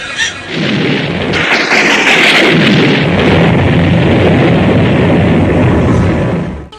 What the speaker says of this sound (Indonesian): Ketika hujan deras, suaranya gemuruh, disertai petir yang meledak-ledak.